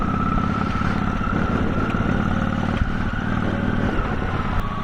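Motorcycle riding through a small town, its engine running steadily and loud from start to finish with a strong low drone and a tonal whine, no voices over it.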